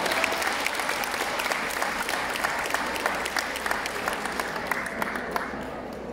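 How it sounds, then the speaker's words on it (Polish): Audience at a Women's Day event in Kłobuck applauding steadily, a fairly faint, even patter of many hands clapping heard from within the hall, without voices. "Wielkie brawa dla pani Jadwigi Kubak."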